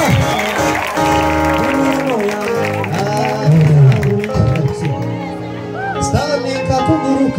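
Crowd at a church gathering claps and cheers in praise, a dense sustained wave of applause mixed with voices and music, loud and continuous throughout.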